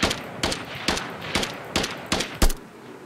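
Gunfire in a GTA-style shooter game built in Unreal Engine 5: six or seven sharp, evenly spaced shots about every 0.4 seconds, loud and close, with no talk.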